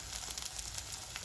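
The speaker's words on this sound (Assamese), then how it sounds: "এইখিনি এতিয়া মই ভালদৰে অলপ সময়ৰ কাৰণে আকৌ ভাজি ল'ম" Spices with tomato and onion fry in a pan, seasoned with salt and turmeric for a sesame fish dish, giving a steady, dense sizzle close by with no voices.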